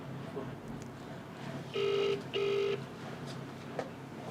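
Telephone call being placed: two short electronic tone bursts in quick succession, steady and moderately loud over quiet room noise.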